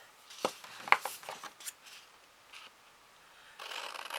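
Scissors cutting the four sides of a paper card-making kit, a few crisp snips and paper rustles close up, then a brief louder rustle of paper at the end.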